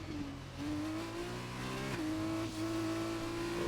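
A Euro F2 single-seater in a racing video game on a qualifying lap, its engine droning steadily with rising and falling pitch through gear changes, loud and continuous with no talk.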